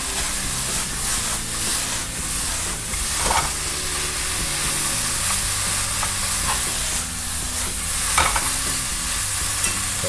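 Ramen stir-fried with sriracha and dried garlic gives a loud, steady sizzle and hiss, with repeated scraping and clattering of utensils against the pan.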